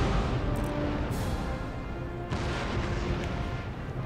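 Naval cannon fire in a sea battle in the strategy game Empire: Total War, a dense continuous roar of booming broadsides with sharper bursts rising around the one- and two-second marks, loud and sustained throughout.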